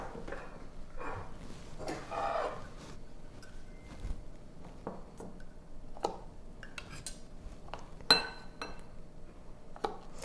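Cocoa powder is spooned into a bowl while making sugar-free cheesecake brownies, giving a scattered series of soft scrapes and light metallic clinks of the spoon against the bowl, with quiet pauses between strokes and no talk.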